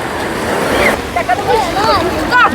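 Sea waves at Lanzheron beach in Odesa, a steady broadband wash of surf that persists throughout, with faint voices and brief tonal calls rising over it in the second half.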